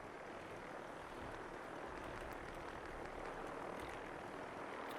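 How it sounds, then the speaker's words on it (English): Helicopters flying over a settlement in the video game Fallout 4, a steady, dense broadband rotor and engine roar holding at an even level throughout, with no voices. "the helicopters are starting to annoy me"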